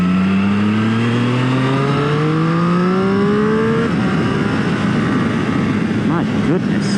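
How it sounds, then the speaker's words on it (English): A 2021 Triumph Street Triple R motorcycle being ridden, its engine rising in pitch through hard acceleration, then a loud, continuous close roar with rushing wind over the last few seconds. "riding the 2021 Triumph Street Triple R"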